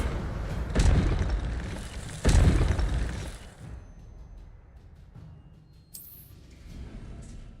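An Incendio fire spell blasts twice in Hogwarts Legacy, a video game: two booming bursts of fiery noise that each fade into a rumbling tail before the scene goes quiet.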